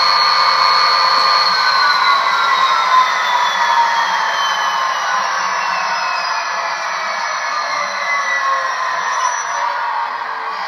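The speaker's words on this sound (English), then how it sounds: "the radiator fan is kicked in." A steady, loud whooshing engine radiator fan roar runs unbroken throughout, a broad airy drone with faint tonal whine, no voices.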